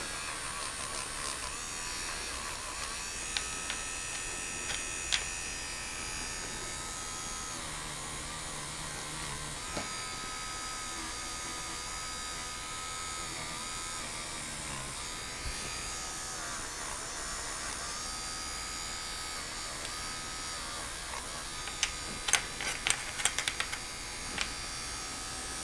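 A rotary tool fitted with a new brush whines steadily as it barely touches a model Peterbilt big rig truck, a continuous high electric buzz with small scratchy spikes near the end and no talking.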